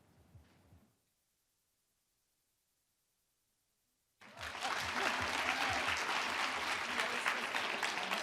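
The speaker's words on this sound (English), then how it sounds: "can we get another round of applause for those guys?" An audience at a student hackathon's final demos breaks into loud, sustained applause after a brief quiet gap, a dense wash of many clapping hands that continues to the end.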